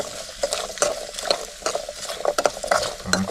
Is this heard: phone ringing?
no